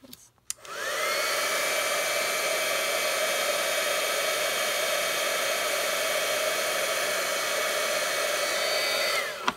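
A heat embossing tool switches on and blows hot air in a steady, loud whooshing hiss with a faint whine, running continuously until it clicks off.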